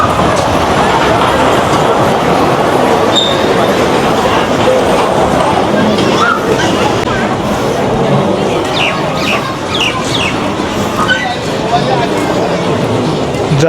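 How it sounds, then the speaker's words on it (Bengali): A small children's amusement park train rolls along slowly, producing a continuous loud rumble and rattle of wheels with faint squeals, heard up close amid crowd noise. "যারা ট্রেনে আজ পর্যন্ত উঠিনি তারা এই বাচ্চাদের ট্রেনে উঠতে পারেন"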